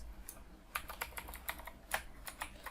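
JavaScript code is typed on a computer keyboard: a brief, faint run of crisp, evenly spaced key clicks heard close and alone, without speech.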